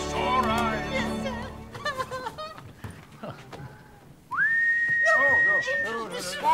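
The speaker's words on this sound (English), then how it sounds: "Young man, you should never, ever whistle in a theater." A person whistles inside a theater, a bright sustained rising whistle note breaking in partway through, with people talking around it before and after.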